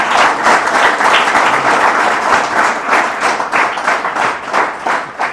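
Loud, dense clapping from an audience welcoming a speaker at a highway police road-safety and pre-recruitment training event, sustained without pause and close.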